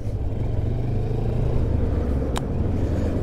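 Voge 350AC motorcycle cruising under 4,000 rpm, a steady low engine drone with constant rumble throughout, close and even, with a brief faint click partway through.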